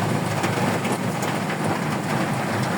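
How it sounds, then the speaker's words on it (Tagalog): Heavy rain pours steadily in Pasig Kapitolyo as a dense, unbroken loud hiss that holds without pause from start to end. "Antayin natin na medyo humina yung ulan."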